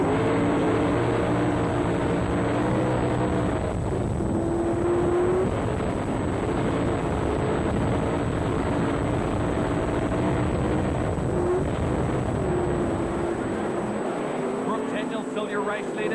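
A sprint car engine on a speedway, recorded from an onboard camera, a loud continuous roar that rises and falls in pitch as the car accelerates and backs off through the laps, with wind buffeting throughout.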